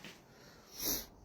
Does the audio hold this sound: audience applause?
no